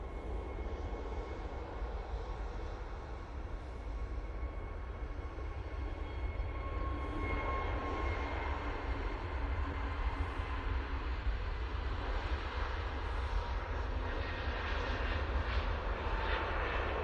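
Jet2 airliner engines at Manchester Airport spool up in a steady, distant roar with a faint rising whine, lasting through the whole stretch, with no talk over it.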